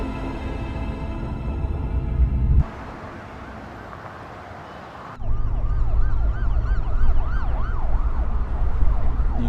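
Police and emergency vehicle sirens wail loudly on a road, a steady tone giving way to a quieter pause before rising, looping warbling sirens return strongly, with no talking.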